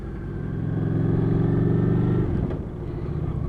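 A Honda VT750 motorcycle on a test ride idles and revs in a low, throbbing engine drone that swells over about two seconds, then eases and picks up again, heard close with no talking.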